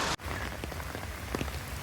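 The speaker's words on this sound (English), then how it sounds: "Due to the heavy rain," Heavy rain hisses densely and continuously at Fort Siloso on Sentosa Island, Singapore, with scattered drops pattering on a surface after a brief cut at the start.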